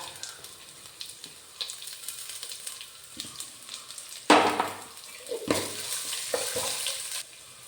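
Chopped onion goes into a pan of ginger and green chilies frying for upma, giving a steady close sizzle with stirring scrapes and louder bursts of hissing partway through.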